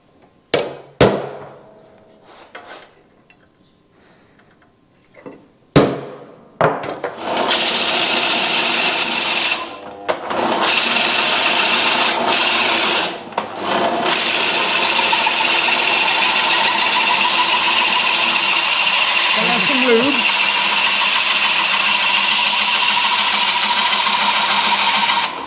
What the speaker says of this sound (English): Drill 2 big holes in here now.